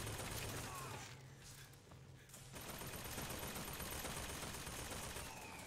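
Gunfire in BioShock Infinite, dense bursts of shots and rattling automatic fire layered into a loud continuous barrage, easing briefly in the middle before picking up again.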